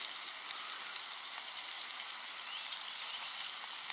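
Food frying in butter at an outdoor wild camp, a steady soft crackling sizzle that holds evenly throughout with no talking.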